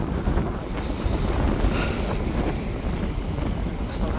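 Steady, loud wind roars and buffets the microphone outdoors on a bitterly cold day in Scarborough, Canada, a continuous broadband rush with no pauses.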